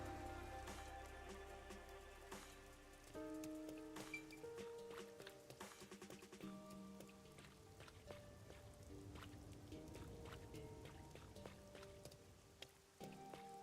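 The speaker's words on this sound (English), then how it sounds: "I cannot believe it's already raining." Rain falls steadily in the Rain Code video game, a continuous patter of drops under a layer of tonal game music, holding at an even, moderate level throughout.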